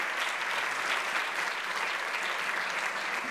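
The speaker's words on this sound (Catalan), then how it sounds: "Fort aplaudiment per a Héctor" An audience at the Clara Campoamor award ceremony in Almassora breaks into warm, sustained applause for a guest, a continuous even clapping at moderate distance.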